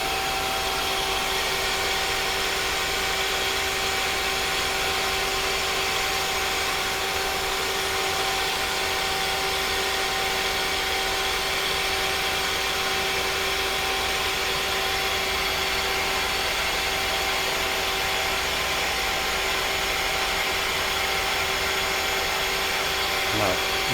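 A Mazak CNC machine circle-milling an outside diameter with a chamfer, its turret travelling up and down on Z and Y while spraying coolant, gives a steady, continuous hiss and mechanical hum with faint tonal whine throughout.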